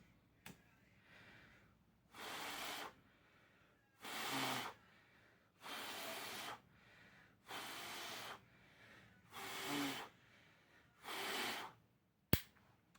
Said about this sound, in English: I tried a lot to blow this out, but the flame did not even move